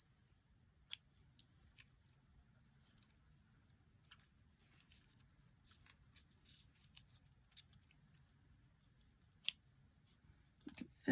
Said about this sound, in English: I'm going to adjust this to the size I want. And snip off the edges.